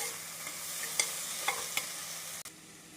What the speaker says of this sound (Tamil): நாம் அரிசி சேர்த்து காய்கறிகளுடன் நன்றாக மிக்ஸ் செய்து